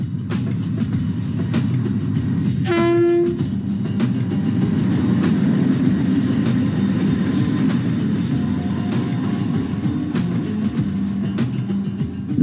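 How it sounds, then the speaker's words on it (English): Steady rumbling interior noise of a passenger train running on the Trans-Iranian Railway, with regular rhythmic clicks from the rails and a brief tonal squeal early on, continuous and fairly loud. "Our train leaves Khorramshahr and heads north."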